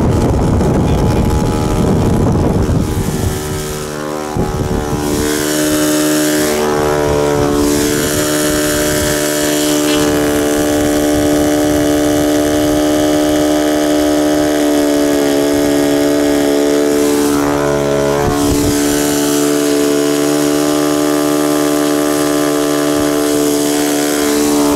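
A P-51B Mustang 'Berlin Express' ARF RC model plane, 1580mm H-King, powered by a Saito FA 62B four-stroke glow engine, drones loud and steady throughout with a strong harmonic buzz that shifts slightly in pitch as it passes.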